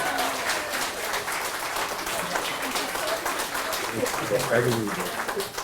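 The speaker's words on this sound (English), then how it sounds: "Give Cheryl Bambury a round of applause" Applause for Cheryl Bambury at a Norfolk County Sheriff's Office event, a moderate, steady patter of clapping from a gathered crowd with voices murmuring underneath.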